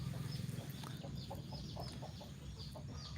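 Chickens cluck and chirp in a farmyard where young fighting-cock stock is kept, short calls repeating irregularly over a steady low background hum, fairly faint and with no one talking.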